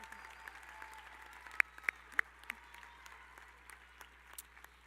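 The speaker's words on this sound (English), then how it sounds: "Please join me in celebrating their remarkable academic achievement with a round of applause." A high school graduation audience applauds, soft scattered clapping heard from a distance with a few sharper individual claps standing out, fading unevenly over several seconds.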